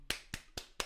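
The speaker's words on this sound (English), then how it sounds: "Golf clap." Four soft, sparse claps spaced about a quarter second apart, quiet and close, a polite golf-style clap with no talk over it.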